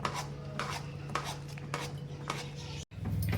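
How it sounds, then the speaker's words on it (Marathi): Moong dal sheera is stirred in a pan on the stove: a spoon scrapes against the metal in repeated close strokes, with steady clinks and rubbing, a brief pause near the end, then the scraping resumes. "त्याला हलवतच राहायचं. कारण त्याचं मध्ये काही गिठोळ्या वगैरे होऊ नये म्हणून आपण त्याला सारखं हलवत राहायचं."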